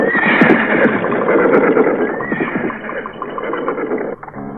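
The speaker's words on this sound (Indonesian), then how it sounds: "2 orang prajurit menunggang kuda" Horses ridden by soldiers neigh loudly in a long, wavering whinny with processed echo, over faint clip-clop of hooves, then cut off abruptly near the end.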